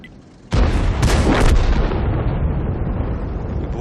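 Tank explosions in the World of Tanks video game: a sudden loud blast followed by a second burst, then a long rumbling roar that slowly fades, with no talking.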